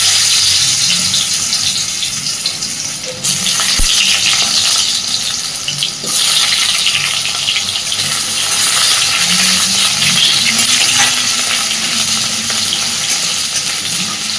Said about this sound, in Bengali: আলুগুলোকে সুন্দরভাবে একটু ভেজে নেব।